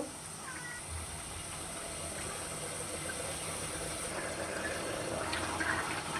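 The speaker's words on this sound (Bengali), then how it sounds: "এখন আরেকটা বলক উঠে গেছে" Heron meat curry simmers and comes back to the boil in a covered pot, a soft steady bubbling hiss with faint steam that holds throughout at low volume.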